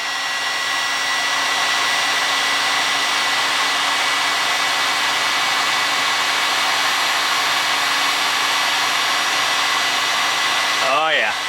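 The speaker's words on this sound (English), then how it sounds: "let's see how long the heat shrink tubing takes with the 1500 watt piece of junk from Harbor Freight" Harbor Freight 1500 watt heat gun heating heat shrink tubing: a steady, loud, close whooshing blower hiss with a high motor whine, running unbroken until it winds down at the very end.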